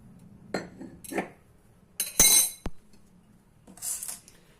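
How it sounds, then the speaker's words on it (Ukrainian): A spoon clinks and taps sharply against a bowl several times, spaced apart, while basil seeds are added to a fruit salad at breakfast. "І додаю суперфуд насіння базиліку."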